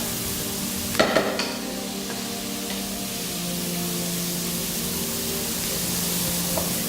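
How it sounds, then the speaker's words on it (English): Onions frying and caramelizing with chili in a soup pot, a steady hiss of sizzling oil preceded by a couple of quick clattering stir knocks near the start, close and continuous without speech. "we want to make sure that our onions are nice and sort of caramelizing"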